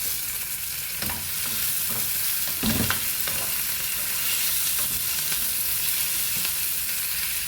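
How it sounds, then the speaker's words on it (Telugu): Curry leaves and green chillies crackle in hot oil for a Kerala-style chicken curry, a constant bright sizzle with a few soft knocks of a spoon stirring through it, nearby and with no voices. "చూడండి, కరివేపాకు, పచ్చిమిరపకాయలు ఫ్రై అయ్యాయి"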